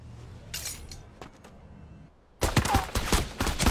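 Gunfire in the mecha shooter game Super Mecha Champions: scattered sharp shots early, then after a short lull a loud, dense burst of rapid automatic fire that keeps going to the end.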